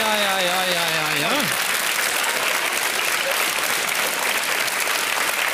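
Audience applause for a broadcasting chief at a Norwegian comedy show, steady clapping from a large crowd that swells and holds throughout, with a brief sliding tonal sound at the start.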